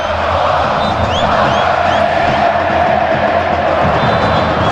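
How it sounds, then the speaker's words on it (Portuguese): Ponte Preta supporters roar and chant together in the stadium during a Campeonato Paulista derby against Guarani, a dense, loud wall of crowd voices with whistles cutting through, continuous from start to finish. "E a torcida da Macaca solta o grito."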